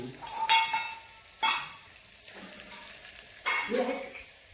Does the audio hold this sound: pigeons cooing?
no